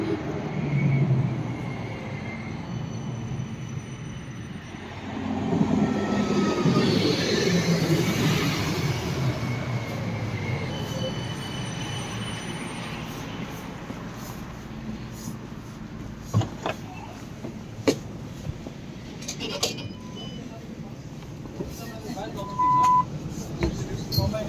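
A tram pulls into a stop in Amsterdam with a low rumbling approach that swells and fades, followed by faint metallic squeals, under steady street noise and background voices.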